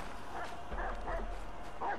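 Dog in the video game Assassin's Creed 3 giving a few faint, muffled barks and yips over low game ambience, distant and partly masked.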